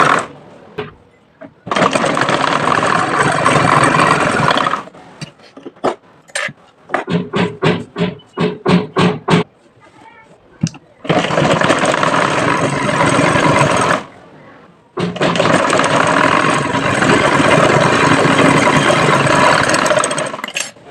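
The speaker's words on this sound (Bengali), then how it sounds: "রাবারটা বসিয়ে ঘুরিয়ে সিলিয়ে নেব।" A sewing machine stitches elastic onto a lace-trimmed dress, running loud and close in long steady bursts broken by rapid short stutters and brief pauses.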